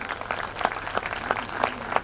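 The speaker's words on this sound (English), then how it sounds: "Let's give a huge round of applause." A school function audience gives a round of applause, with close, individual claps standing out sharply in a loose rhythm over a softer bed of clapping.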